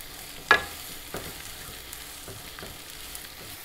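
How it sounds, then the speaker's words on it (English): Onions sautéing in a pan over high heat until translucent, for a duck egg roast. A low steady sizzle sits under a few sharp spatula clicks and scrapes, the loudest one near the start. "Okay, our onion has sauteed very well."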